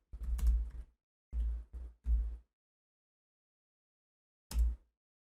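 Computer keyboard typing while entering an Excel formula comes in short clustered bursts of keystrokes with silent gaps between, closing with one final isolated tap.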